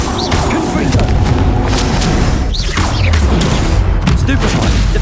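A Confringo explosion spell in the Hogwarts Legacy video game bursts with heavy booming blasts and crashes amid rapid combat effects, loud and close, while a voice talks over the action.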